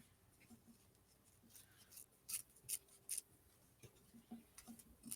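A few quick, quiet snips of scissors cutting fabric, clustered close together against a hushed background.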